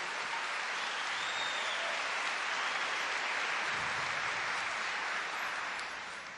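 A Catholic congregation breaks into sustained applause during a sermon, a dense wash of many hands clapping at a steady level and easing slightly at the end, with no talk over it.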